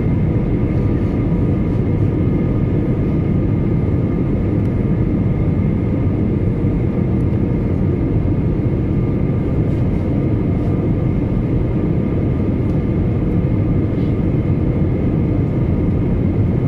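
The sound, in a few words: airplane flying over Paris, preparing for landing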